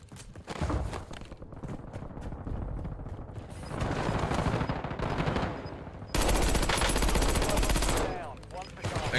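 Automatic gunfire in the video game Warzone pours out in dense, loud, nearly continuous bursts, a rapid machine-gun rattle that swells and shifts across several volleys, with speech mixed in beneath.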